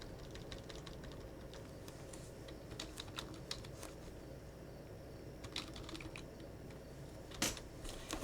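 A password is typed on a computer keyboard, with scattered quiet key clicks in short irregular bursts and a slightly louder cluster near the end, heard close over faint room hum.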